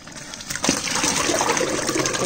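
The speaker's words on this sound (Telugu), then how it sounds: "ఇప్పుడు నేను పప్పు అనేది వేసుకుంటున్నా." Cooked toor dal (pigeon pea lentils) for fenugreek-leaf methi dal slops and gushes wetly into a pot, a steady thick pouring sound that swells after a brief start and continues without voices.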